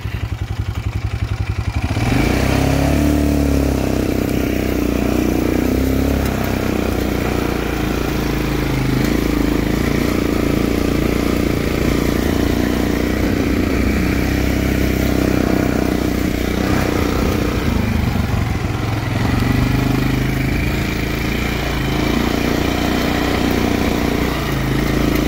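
A Kayo 180 Storm pit bike engine starts after a brief quiet moment, then runs loud and close with a rough, rattly idle and several rising revs that swell and fall back.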